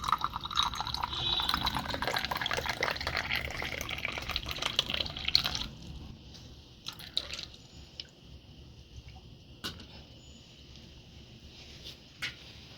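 Ganges water poured into a small vessel while preparing ritual offerings for a goddess, a steady splashing fill for several seconds that stops, followed by sparse drips and small clinks.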